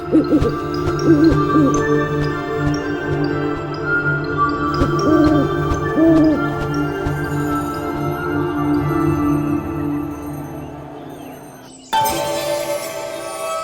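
An owl hoots in short soft calls at two points, heard over a dense bed of steady hum, tones and background music that ends with an abrupt change near the close.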